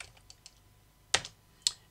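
Keys tapped on a computer keyboard while entering a number in SketchUp, a few faint light taps followed by two sharper, louder keystrokes, close and alone in a quiet room.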